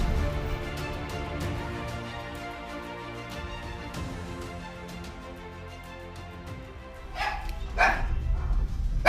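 Small dogs barking as visitors arrive at a house, with repeated sharp yips that grow louder and denser toward the end over a steady background hum.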